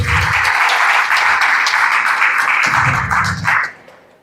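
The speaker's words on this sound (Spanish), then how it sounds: "un aplauso para él" Applause at an agrifood summit panel on bioinputs as an agronomist is introduced: dense, sustained clapping near the microphone with a brief burst of low rumble and a short hitch near the end, fading out.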